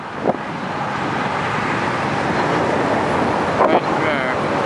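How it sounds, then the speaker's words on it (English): An RV passes on a road in Rapid City, a steady broad rumble of tires and wind that holds throughout at moderate loudness. "An RV."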